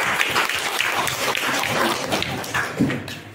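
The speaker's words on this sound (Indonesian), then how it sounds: "Tepuk tangan untuk kita semua." Applause from an audience gathered at an academic supervision and coaching session, a dense steady patter of many hands clapping close by for a few seconds, with no speech over it.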